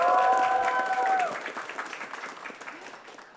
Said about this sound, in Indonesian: Boleh berikan tepuk tangan untuk kita semuanya.